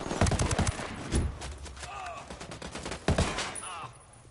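Gunfire in the video game Ghost Recon: loud, rapid bursts of shots in clusters, with brief voice chatter in between.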